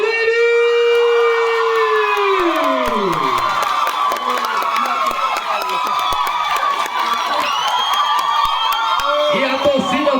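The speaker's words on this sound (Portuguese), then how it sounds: "E a torcida vai ao delírio" Crowd at a 5 km and 10 km road race podium ceremony in Bom Conselho, Pernambuco, cheering loudly and continuously, whoops and shouts mixed with a sustained high whistle-like tone that bends downward, close and dense throughout.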